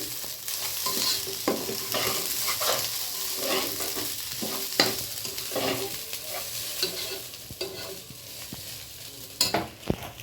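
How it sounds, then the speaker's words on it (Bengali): Rice fries in a pan for biryani, a steady soft sizzle broken by repeated scraping and clinking of a stirring utensil, heard close up with no talking. "এখন বিরিয়ানির জন্য এই যে চাল ভেজে নিচ্ছে"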